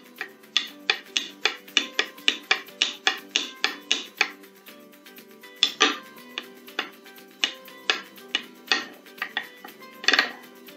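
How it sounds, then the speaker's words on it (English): A utensil stirs food in a pot, producing a fast run of sharp, regular metallic clinks and scrapes close by, a short pause, then more uneven knocks. "Stir some more."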